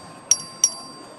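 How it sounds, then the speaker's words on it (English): A clerk rings a voting bell in a legislative chamber: two quick, bright dings about a third of a second apart, clear over a faint room hum. "The clerk ring the bell."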